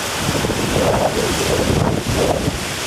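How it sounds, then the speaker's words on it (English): Strong wind gusts from Hurricane Hugo, a category 5 storm striking St. Croix in 1989, roaring steadily across a microphone with surging rushes and heavy buffeting throughout. "A gust."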